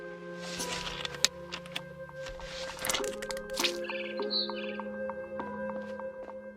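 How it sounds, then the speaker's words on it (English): Barn swallow chirps and tweets in the video game What Remains of Edith Finch ring out over a steady electronic hum, with a few sharp clicks and a brighter twittering call partway through. "Then I heard chirping outside my window. It was a barn swallow going back to her nest."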